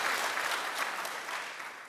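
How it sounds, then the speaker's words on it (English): Audience applause at an annual vitamins and minerals industry conference session, a steady wash of many hands clapping in a hall that fades slightly over two seconds. "Let's give him a round of applause, please."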